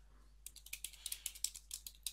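Quiet keystrokes on a computer keyboard tap out a short command in a quick, uneven rhythm, close and faint, over a low steady hum.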